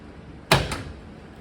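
A car door with shaved handles pops open on its own: one sharp, close thud and a softer follow-up knock, then quiet.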